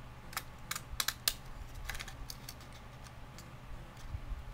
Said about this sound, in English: I'm going to take my scalloped edge scissors and go along the edge of this black paper